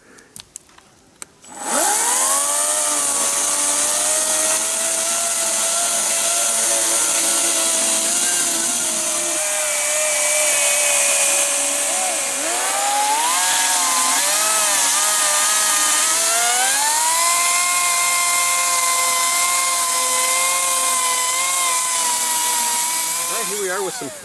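Ego, Ryobi and Milwaukee chainsaws cutting through a smaller log, a loud continuous motor whine that shifts pitch as the chain bites and the engine bogs, starting abruptly after a brief quiet moment and running for over twenty seconds.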